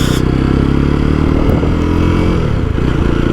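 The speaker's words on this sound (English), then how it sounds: "The exhaust is so much throaty, and it's throaty and it feels good" A Jawa 42 2.1 BS6 motorcycle runs with a loud, steady, throaty exhaust drone, close and continuous, with faint clatter and rattles over the engine note.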